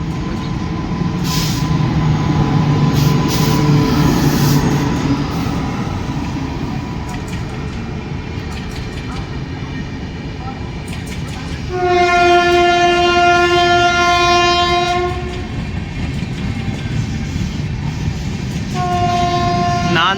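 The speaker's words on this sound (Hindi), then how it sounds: "नांदेड़ से चल के हिमाचल की अमनदौरा को जाने वाली हिमाचल एक्सप्रेस।" The Himachal Express, running from Nanded to Amb Andaura in India, passes close by with a loud, steady rumble of wheels on rail, and its horn sounds in a long blast, then again more briefly near the end.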